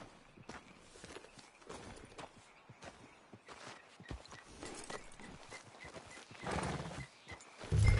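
Horse hooves clip-clop on open ground in Red Dead Redemption 2, a quiet, steady walking beat of soft thuds with faint ambient noise and a louder thump near the end.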